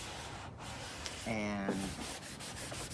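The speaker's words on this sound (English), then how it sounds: "we're just gonna squeegee up the style lines" A squeegee presses a vinyl decal onto a wet, fluid-sprayed surface along its style lines, making a steady, close rubbing swish with a brief squeaky drag in the middle.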